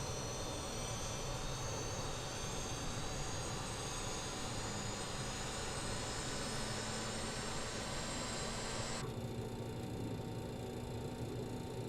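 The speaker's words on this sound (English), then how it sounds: "Right, engine is starting up." A four-engine BAe 146 jet airliner, simulated in Microsoft Flight Simulator, spools up with a steady broadband roar and high whine that holds loud and constant throughout, the upper hiss dropping away near the end.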